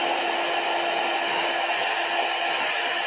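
Hair dryer blowing steadily up close to dry paint on a gelli print, a continuous loud whooshing hum with no pauses and no voices.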